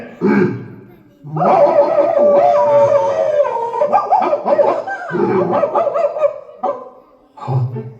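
A dog barks and howls in a long, loud series, with short pauses between the outbursts, during a rabies-awareness puppet play at a school in Ottapalam, Kerala.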